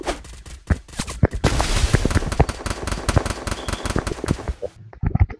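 Rapid gunfire in a video game, dense bursts of sharp shots and rattling automatic fire, loud and close, ending with a short pause before a few more shots.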